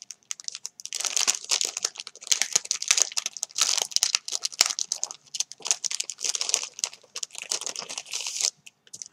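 Pretty wrapping paper crinkles and tears as a lace parcel is unwrapped, close and busy, with bursts of crumpling rustle coming in uneven waves and brief pauses between handfuls.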